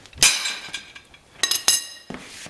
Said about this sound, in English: we're going to take a baseball swing at this wrench and see if we can jar it loose